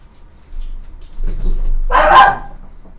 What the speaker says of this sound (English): here's my puppy barking.